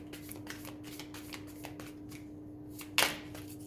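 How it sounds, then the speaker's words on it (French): Tarot cards are shuffled close by in a steady run of soft, rapid riffling flicks, then one sharp louder slap as a card is drawn and set down near the end, over a faint low hum. "je vais tirer 3 cartes"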